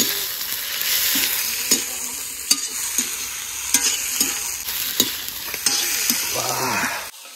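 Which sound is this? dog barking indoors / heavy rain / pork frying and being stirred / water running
pork frying and being stirred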